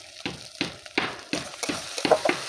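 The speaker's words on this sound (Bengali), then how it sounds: "ভালো করে মশলাটা কষিয়ে নেবো।" Coriander and Kashmiri chilli powder masala fries in oil for a tel koi fish dish, with steady sizzling under about six regular scraping stir strokes, close and fairly loud.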